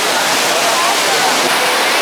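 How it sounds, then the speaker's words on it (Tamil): Courtallam waterfall in full flow, its heavy torrent roaring loud and close in a constant, dense wash of crashing water. "இப்போ வந்து தண்ணி பயங்கரமாக வருது."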